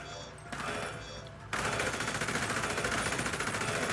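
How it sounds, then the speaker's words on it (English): Automatic gunfire rattles in GTA, starting as a muffled burst. It then becomes a loud, continuous stream of rapid shots close by, with chatter beneath. "Who's shooting me?"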